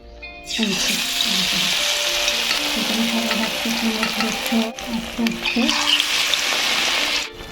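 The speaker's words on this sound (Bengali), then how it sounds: "লাল লাল করে ভেজে তুলে নেব" Pumpkin flower fritters coated in gram-flour batter frying in hot oil, a loud, steady sizzle that runs nearly the whole time with light clatter of stirring, and a voice talking over it.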